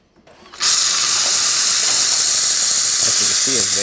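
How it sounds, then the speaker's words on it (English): A Jura A9 coffee machine steams milk into foam with a loud, continuous high hiss and squeal that starts abruptly and holds steady. A voice speaks briefly beneath it near the end. "Then we're going to test the steam by doing a milk foam."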